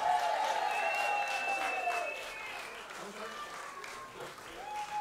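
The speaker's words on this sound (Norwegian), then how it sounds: "la vi gi disse to en heidundrende applaus" Audience applause at a Norwegian stage show with two performers, steady clapping through the whole stretch while a host's voice and sung or sustained tones carry over it.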